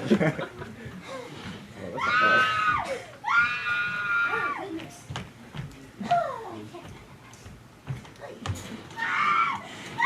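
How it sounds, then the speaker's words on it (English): Screams from a billiard room in a Clue-themed murder mystery scene, several loud shrill bursts of shrieking voices close by, broken by gaps and mixed with other voices and laughter. "Screams! They're coming from the billiard room,"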